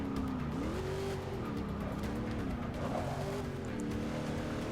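A race car in the Forza Motorsport 6 Apex racing game roars loudly with its engine pitch rising and falling through gear shifts as it speeds down a straight toward a corner.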